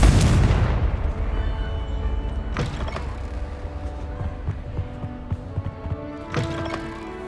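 A Confringo fire spell goes off in the Hogwarts Legacy video game, opening with a loud, broad blast that decays into a rumbling, crackling tail. Sharper impact bursts come later, over a low mechanical game background.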